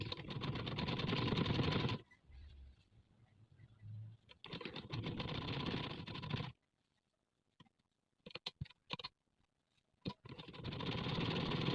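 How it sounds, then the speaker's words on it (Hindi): Sewing machine stitching fabric for a neckline design, running in a few loud bursts of steady mechanical whirring separated by pauses and faint clicks. "देखिए आराम से हमारा कपड़ा नीचे मशीन के आएगा और हम सिलाई आराम से लगा लेंगे।"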